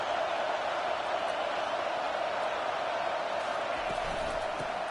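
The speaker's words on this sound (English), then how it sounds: "It is getting loud as this crowd tries to help its defense." A loud stadium crowd at a football game keeps up a steady, dense roar through the whole stretch, like a wall of noise with no breaks and no single voice standing out.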